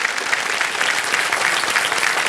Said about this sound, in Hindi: एक बार फिर तालियों के साथ हम उनका यहाँ अभिनंदन करते हैं